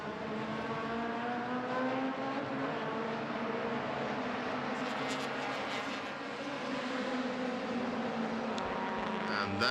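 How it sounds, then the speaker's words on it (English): Race cars roar past on the track during a Malaysia Championship Series round, a steady dense engine drone with shifting pitch that fills the whole stretch, fairly distant, with no clear voices. "And that is Fadzil Alang in his white, black and red FR racing car."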